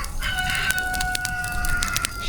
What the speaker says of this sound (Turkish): Şimdi bir tavuklara bakacağım.